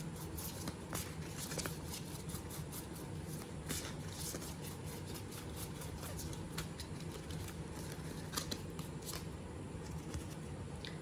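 Tarot cards are shuffled and drawn, giving faint, rapid papery flicks and taps in a quiet room.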